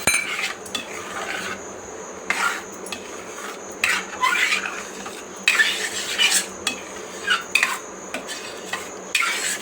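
Mango pulp and sugar being stirred as it cooks in a pot, with a spoon repeatedly scraping and clinking against the metal in irregular bursts over a low steady background; no talking.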